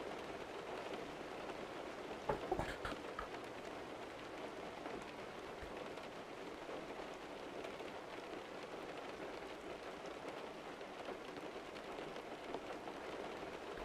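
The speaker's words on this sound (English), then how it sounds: "I was sort of hoping the rain would stop by the time I got back." Rain falling in American Truck Simulator, a steady soft hiss of drops on surfaces with a brief cluster of louder taps early on, continuous and moderately faint.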